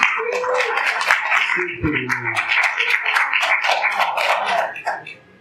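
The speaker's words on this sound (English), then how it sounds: "give yourselves a round of applause," An audience at an evening event gives a sustained round of applause, dense and fairly close, with a few voices and low murmurs briefly mixed in before it dies away.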